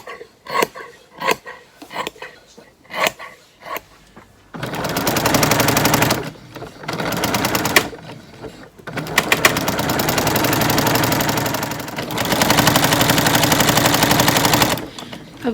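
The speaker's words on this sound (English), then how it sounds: "I've got my walking foot on the machine, and if I take my finger off of it, listen to the machine gun sound" Sewing machine fitted with a walking foot, alternating short separate stitching bursts with long sustained runs of loud, rapid machine-gun-like rattling close by.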